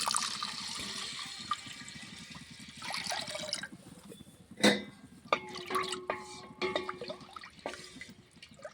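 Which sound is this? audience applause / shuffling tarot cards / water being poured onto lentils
water being poured onto lentils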